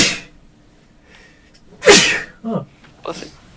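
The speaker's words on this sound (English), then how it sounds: "Oh, I sneeze." A single loud, sharp sneeze bursts out close by after a quiet pause. Brief breathy sounds and a short spoken remark follow.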